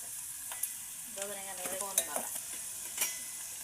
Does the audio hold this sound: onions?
yes